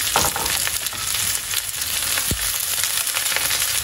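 Shallots sizzle and crackle loudly in a pan with mushrooms and chicken gizzards, a dense continuous frying hiss up close, with a faint scrape of stirring.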